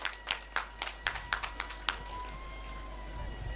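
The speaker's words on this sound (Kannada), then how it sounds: "ಚಪ್ಪಾಳೆ ತಟ್ಟರು" Applause from a crowd at a Kambala buffalo race, a burst of scattered claps over the first two seconds that fades into a noisy outdoor background.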